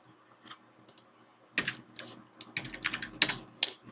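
Key presses and clicks on a computer keyboard during Houdini modeling work, quiet at first and then a cluster of sharper taps close to the microphone.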